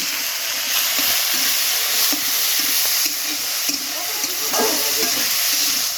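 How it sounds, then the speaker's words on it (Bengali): Washed cabbage stir-fries in a pan for chowmein. A constant hissing sizzle is broken by regular scraping strokes of the spatula over several seconds. "ধুয়ে রাখা বাঁধাকপিগুলো দিয়ে দিব সুন্দর মতো ভাজিয়ে নেব"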